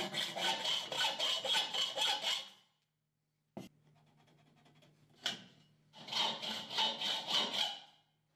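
Steel U-profiles being sawn to size by hand, two bursts of rapid rhythmic back-and-forth strokes, close and loud, separated by a pause with a brief knock and faint scraping.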